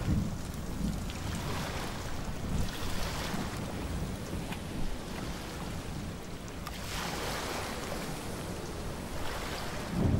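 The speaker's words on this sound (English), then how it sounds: "So we're on a boat." Boat on open water in the Source-engine game Estranged: Act I, with continuous loud surf, wave wash and wind-like rumble throughout, swelling in bursts, no voices.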